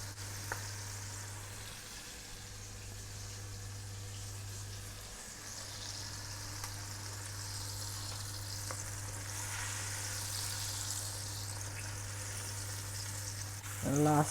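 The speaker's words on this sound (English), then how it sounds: "squid frying" Squid calamari frying in a pan of oil, a soft steady sizzle lasting throughout at low level, with a brief louder clatter at the very end.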